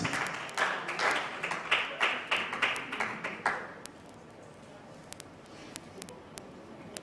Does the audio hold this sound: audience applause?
yes